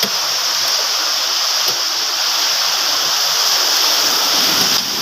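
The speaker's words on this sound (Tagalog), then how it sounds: "Ano may alon oh." Sea waves washing steadily near a small boat in the Philippines, a continuous bright rushing surf that holds at an even level for about five seconds, with no voices over it.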